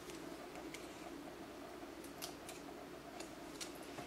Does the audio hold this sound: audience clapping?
no